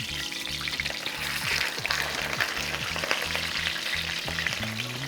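Boneless milkfish fries in hot oil with a steady, dense sizzle and bubbling crackle, close and continuous, with a faint low hum running underneath.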